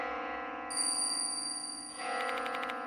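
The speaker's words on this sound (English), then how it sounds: "Where's this bell coming from?" Sustained bell ringing in the horror game Spirit Hunter: Death Mark II, bright tones entering over a quiet background drone, then rapid repeating chimes near the end, no speech.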